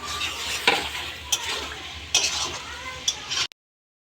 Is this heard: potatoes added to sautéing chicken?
yes